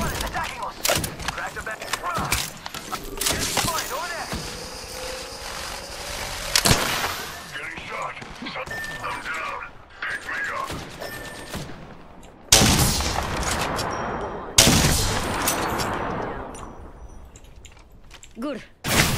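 Bursts of gunfire in the video game Apex Legends, with scattered shots and rapid volleys mixed with game sound effects and a voice talking over parts of the action.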